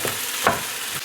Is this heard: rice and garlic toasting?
yes